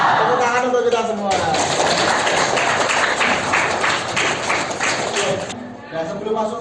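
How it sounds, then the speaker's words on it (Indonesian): Audience applause in a morning school coaching session, a dense burst of many hands clapping that swells in after a spoken line, holds for several seconds, then fades as a voice returns. "Tepuk tangan untuk kita semua."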